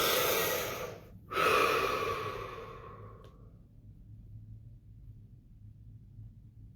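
Someone takes a slow, deep breath during a guided relaxation session, a long airy inhale then a second breathy pull and soft exhale, close and alone, fading into quiet.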